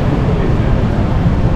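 An MRT train arrives at Tampines station as a loud, steady low rumble that fills the whole moment without a break.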